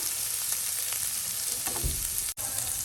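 Garlic sizzling in hot ghee in a pan, a steady frying hiss with a brief stir partway through and no talking.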